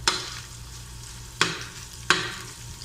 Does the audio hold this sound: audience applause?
no